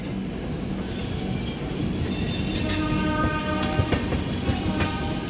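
The 12864 Bangalore–Howrah Express runs steadily with a loud, continuous rumble and rattle of wheels on track, faint squeals and a few clacks rising over the constant roar.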